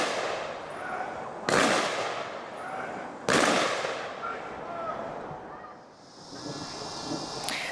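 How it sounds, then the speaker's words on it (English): Rifle volleys from seven rifles ring out at a cemetery funeral service for a sheriff's deputy. Two sharp, loud cracks land a couple of seconds apart over steady outdoor wind noise. "The 3 volleys from 7 rifles during today's service for Deputy John Durm"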